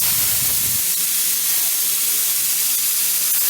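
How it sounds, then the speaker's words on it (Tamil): A mist spraying nozzle fed through a solenoid valve in an egg incubator hisses out a steady, even fog of spray, continuous and fairly close, after a brief low thump as the valve opens. "இந்த வால்வ் வந்து ரிலீஸ் பண்ணி எனக்கு வந்து ஸ்ப்ரேயர் வந்து ஸ்ப்ரே பண்ணும்"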